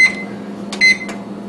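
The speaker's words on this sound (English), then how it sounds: "I'm going to turn on the broiler now that the oven is all the way hot" An oven's broiler is switched on, giving a few short electronic beeps over a low steady hum, close and clear.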